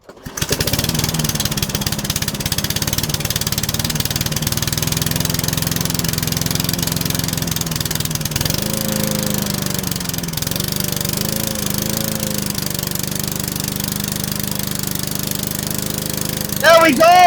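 A swapped-in engine on a lawn mower runs steadily and loud throughout, its pitch shifting partway as the RPM is adjusted, with a brief louder burst near the end.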